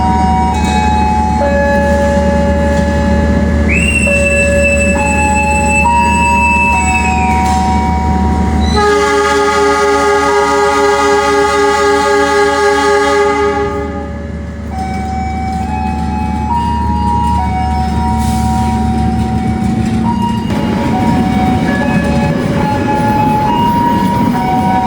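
The KA Sembrani passenger train departs a station platform in Indonesia, with loud sustained horn blasts and melodic chime tones over a deep, steady locomotive rumble and railcar noise, continuing for the whole long stretch.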